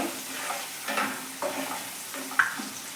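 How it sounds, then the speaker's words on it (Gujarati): Chopped onions softening in a pan for mixed dal, a quiet steady sizzle broken by several soft stirring scrapes and one small clink of a utensil, close and gentle, with no talk. "ડુંગળીને આપણે થોડી ચડવા દઈએ."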